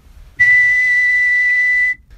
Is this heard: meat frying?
no